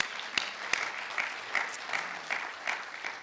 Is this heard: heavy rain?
no